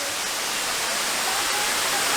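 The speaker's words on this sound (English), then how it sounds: "The waterfall." A waterfall along a jungle trail near the River Kwai, heard as a steady, broad roar of rushing water, constant and fairly close with no voices.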